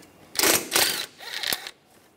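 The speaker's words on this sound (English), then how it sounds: "Use a 10 millimeter socket." Ratchet with a 10 millimeter socket removing a nut on a 2009-2013 BMW 328i xDrive 3.0L inline-six, a few quick close clicking bursts in a short series, no talk.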